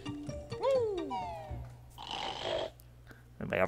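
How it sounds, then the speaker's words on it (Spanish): Cartoonish snoring from sleeping characters in Banjo-Kazooie on the N64, a wheezing, rising-and-falling snore followed by a rougher noisy rumble, with game sounds mixed in. "Vaya ronquidos se pegan"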